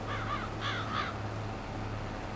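A few crow-like caws in quick bursts over a steady low hum, with no talking, from birds in the video game Farming Simulator 22.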